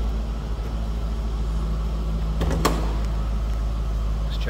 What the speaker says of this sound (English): I can pop this hood one-handed here